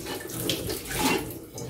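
Tap water pours steadily into a kitchen sink while dishes are washed, a close continuous splashing stream with no voices.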